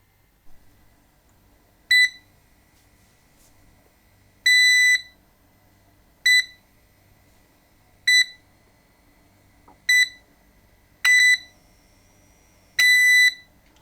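An electric kettle gives off a shrill electronic beep pattern, seven separate bursts of rapid high pips repeating every couple of seconds, loud and clear against a quiet room.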